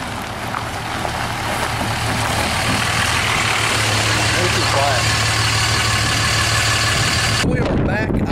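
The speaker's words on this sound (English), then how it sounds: "You can hear the motor, but just coming out the exhaust, it's nothing." A Cummins diesel truck with a 5-inch turbo-back exhaust idles in a steady low rumble throughout, with people talking over it before the sound cuts sharply near the end.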